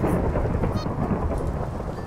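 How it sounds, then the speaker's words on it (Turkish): Heavy rain and rumbling thunder in the video game Minecraft, a loud, continuous low roar with rain hiss, steady from start to finish. "Çok yağmur yağıyor. Şimşek bimşek çakıyor arkadaşlar."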